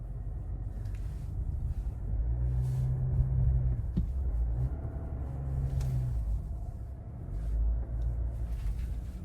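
A 2024 Chevrolet Silverado ZR2 Bison diesel truck crawls up a sidewalk, its engine a steady low rumble that swells twice as the turbo spools under added torque, heard close from inside the cab with no talk.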